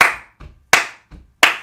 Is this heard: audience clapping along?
yes